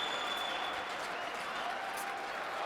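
A crowd roars and cheers in a dense, unbroken wash of noise at a men's singles table tennis grand final between Koki Niwa and Dimitrij Ovtcharov, with faint voices mixed in.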